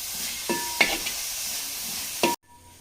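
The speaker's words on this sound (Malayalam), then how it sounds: "ഇത് മൂന്നും കൂടിയും ചതച്ചതാണ് ചേർത്ത് കൊടുത്തിട്ടുണ്ട് നമുക്ക് ഇതിൻ്റെ ആയ പച്ച ടേസ്റ്റ് മാറിനേരൊന്ന് വഴറ്റിയെടുക്കാം" Crushed ginger, garlic and green chilli sautéing in a pan for a Kerala-style chicken curry, with steady sizzling and a few stirring scrapes, then the sizzle abruptly drops away near the end.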